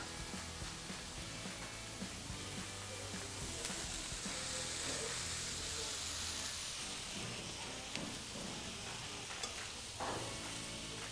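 Pork chops frying in a pan for honey glazed pork chops, a steady close sizzle with stirring and scraping as the meat is turned, continuous throughout.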